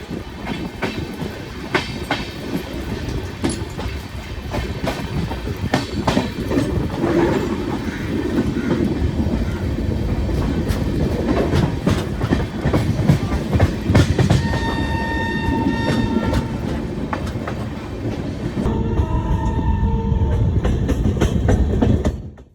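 The 13147 Uttar Banga Express from Sealdah rolls steadily toward New Jalpaiguri, a continuous loud rumble with clickety-clack wheel clatter throughout and a brief high tonal whine rising near the end, with no voices.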